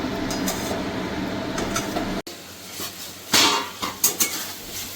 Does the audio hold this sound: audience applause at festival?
no